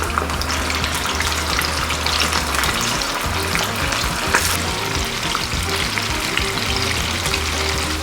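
Steady, dense sizzling of chicken deep-frying in oil at 170 degrees, loud and continuous with crackling bubbles throughout, no voices.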